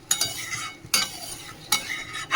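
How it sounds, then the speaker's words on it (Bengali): A spoon stirs soybean curry in a pan in about four distinct scraping strokes, each with a short burst of sizzle, quiet and close, with faint frying between the strokes and no voices. "সোয়াবিন দিয়ে ভালো করে কষিয়ে নিলাম, জল দিয়ে দিচ্ছি"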